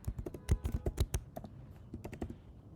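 Fingers tap out an SSH key passphrase on a computer keyboard in a quick, uneven burst of close, crisp keystrokes that slows and thins toward the end.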